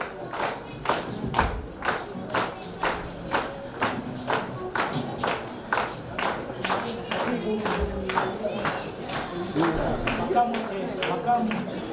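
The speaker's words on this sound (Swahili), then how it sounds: "Makofi ya kutosha" An audience at a university convocation annual general meeting claps in rhythmic unison, sharp hand strikes landing about twice a second for the whole stretch, with crowd voices murmuring and calling beneath.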